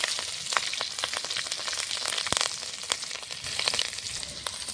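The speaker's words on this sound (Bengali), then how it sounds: "ফোড়নে দেবো 5 ফোড়ন, দুটো কাঁচা লঙ্কা দেবো" Panch phoron spices and green chillies sizzle and crackle in hot oil, with a steady frying hiss broken by sharp pops and spatters, close and fairly loud.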